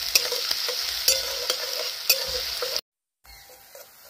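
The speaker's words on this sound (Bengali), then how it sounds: "এই তেলের মধ্যে আমি পেঁয়াজ কুচি দিয়ে দেবো।" Chopped onion sizzling in hot oil in a pan, with regular stirring scrapes and clinks against the pan about every half second, then a brief silence and quieter frying.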